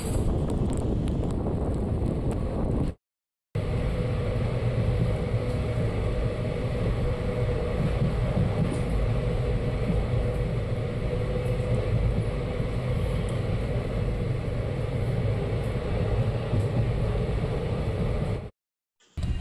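A passenger train on the Hospet–Davanagere line in rainy weather gives a steady, loud rumble with wind-like rushing that runs continuously, broken only by two short cuts to silence. No one speaks.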